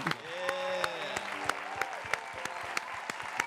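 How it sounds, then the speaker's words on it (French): A studio audience on a French TV show applauds guest Doplim, with sharp, spaced claps over a background of music and a talking voice. "On applaudit pour Doplim."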